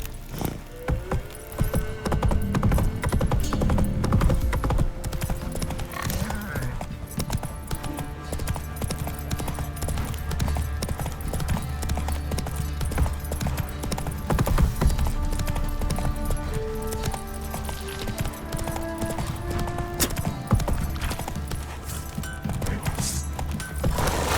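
A horse gallops in The Witcher 3 video game, its loud, rapid clip-clop of hooves driving on continuously over a game soundtrack, with a brief whinny and no speech.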